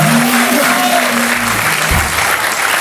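A French television talk-show studio audience breaks into loud, sustained applause, close and dense, with a musical jingle sounding over the clapping.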